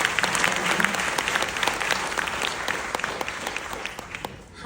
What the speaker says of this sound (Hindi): बाबूजी के लिए प्लीज तालियां